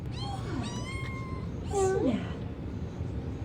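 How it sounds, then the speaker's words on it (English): A cat meows several times in rising and falling calls, fairly close, with one louder, drawn-out meow near the middle, over a low background hum. "Never insult such a sweet ball of a cat"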